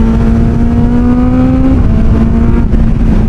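Loud, close engine of a Kawasaki Z900SE motorcycle on a wet first ride, a rising tone that shifts as it revs and changes gear, steady throughout with no talk.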